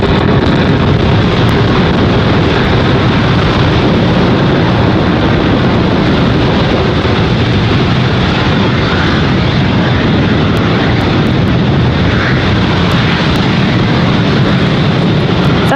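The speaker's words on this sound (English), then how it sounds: "Falcon 9 has successfully lifted off with the SXM-8 satellite from Space Launch Complex 40." A SpaceX Falcon 9 rocket lifts off from Space Launch Complex 40 carrying the SXM-8 satellite, a loud, constant, saturated roar that stays dense and unbroken throughout, with no voices.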